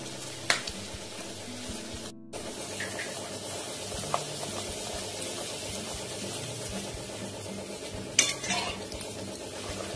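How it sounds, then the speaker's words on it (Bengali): Fish-stuffed kochuri luchis deep-frying in oil, a steady close bubbling sizzle with occasional utensil clinks and a brief gap, no talking. "এইভাবে আমি সব লুচিগুলো ভেজে নেব বন্ধুরা।"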